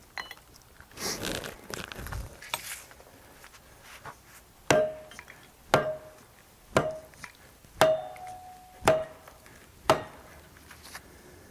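A 16-ounce hammer strikes a cone splitter to break a piece of cedar wood, giving six sharp ringing blows at a steady pace after some rustling and handling, close by.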